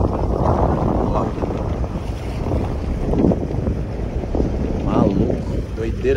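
A small motorboat pounds across choppy water, engine droning under heavy wind buffeting, with faint voices mixed in.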